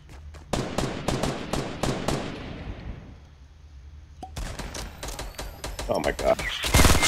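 Rapid bursts of Fortnite minigun fire, loud and close, pausing briefly midway before resuming into a dense stream of shots, with a player talking over it.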